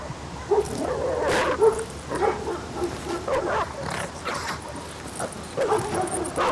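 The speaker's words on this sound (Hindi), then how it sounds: "उसका चिल्लाना सुनकर बाकी के कुत्ते भी बाहर आकर आसमान की तरफ देखकर चिल्लाने" Several dogs bark, yip and whine in overlapping bursts, a restless chorus of moderate loudness with no pauses.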